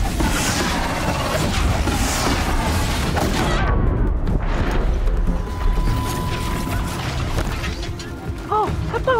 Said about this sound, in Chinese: 它爆炸，我砍爆它什么东西？